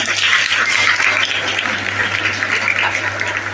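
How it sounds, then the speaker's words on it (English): An audience at a speech event in India gives a steady round of applause, a continuous wash of many hands clapping with a low hum underneath. "Give him a round of applause."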